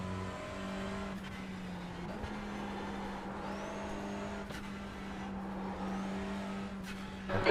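A touring car at Oulton Park in iRacing drones steadily under a steady engine tone while another car approaches and sweeps past, with faint tyre noise and no talk.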